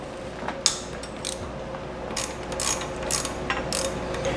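Ratchet wrench loosening the thermostat housing bolts on a 2006–2011 Honda Civic, with quick bursts of close, crisp clicking separated by short pauses over a low steady hum.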